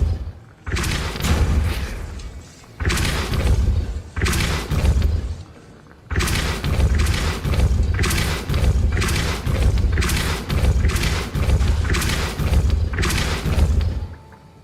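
Heavy, booming thuds from Depulso spell impacts in Hogwarts Legacy repeat in rough bursts, loud and close, with short gaps between the blasts.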